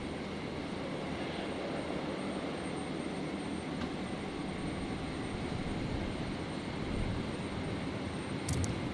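Qantas jet lining up on runway 01 right at Brisbane International Airport on a stormy night: a faint, steady, distant engine roar and broadband rush, with no distinct change across the span.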